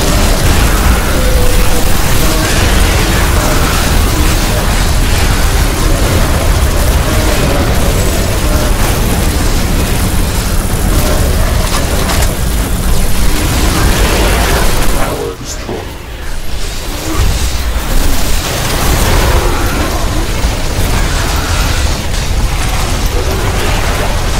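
In the Riftbreaker game, explosions tear down a defensive wall in a dense, loud wash of booms and mechanical clanking that runs almost nonstop, dipping briefly partway through, with a voice speaking over the din.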